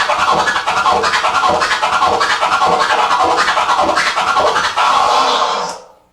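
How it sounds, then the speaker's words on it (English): Flare scratching of a record on a DJ turntable, dense rapid clicking cuts chopping a sample back and forth, loud and continuous with no talking, ending abruptly after about six seconds. "the flare sounds like this"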